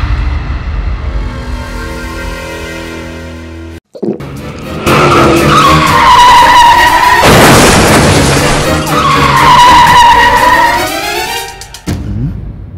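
A four-wheeled car, driven drunk, skids out of control with loud, sustained tire squeals, then crashes with a heavy impact and further screeching before cutting out.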